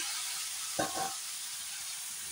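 Jackfruit seeds and Malabar spinach stalks go into a hot frying pan for a vegetarian curry, adding a short, louder burst of sizzling over a constant background hiss of frying.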